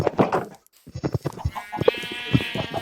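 A goat bleats in the Minecraft video game, a brief wavering call rising over lively talk from players.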